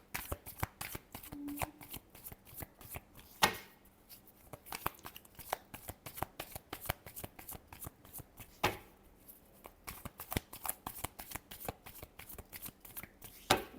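Playing cards being shuffled by hand, with quick riffling bursts and flicks repeating in a steady rhythm, close and crisp against a quiet background with no talking.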